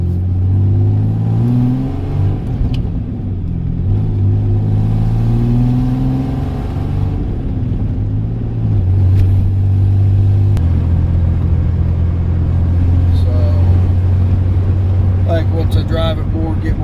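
Car engine on a test drive, accelerating and shifting with a steady low rumble and rising drone throughout, with someone talking over it most of the time.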